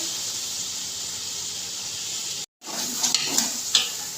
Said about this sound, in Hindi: यहाँ पर मसाले को 2 से 3 मिनट मैं अच्छे से फ्राई करूँगी। यहाँ पर मसाले को भून लेंगे।